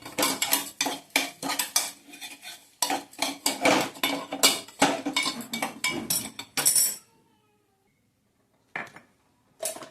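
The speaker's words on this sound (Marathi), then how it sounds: "आता पोहे चांगले भाजून घ्यायचे आपल्याला खमंग मस्तपैकी तुपामध्ये" Poha, flattened rice, roasts in ghee while a spoon scrapes and clinks rapidly against the pan in dense metallic bursts. The bursts stop abruptly, and after a pause a couple of brief clanks follow.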